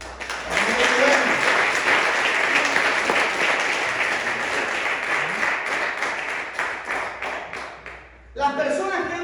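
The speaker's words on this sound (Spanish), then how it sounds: "Denle un aplauso fuerte al Señor." A church congregation claps loudly and steadily at a worship service, the applause thinning toward the end before a short burst of voice breaks in.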